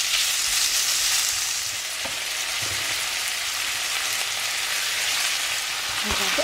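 Chicken pad see ew sizzling steadily in a hot pan as it is stirred, a dense, loud frying hiss with occasional scrapes and clinks of the utensil against the pan.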